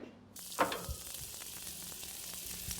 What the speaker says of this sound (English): Burger patties are best done on a barbecue. I generally start them off on the hot plate.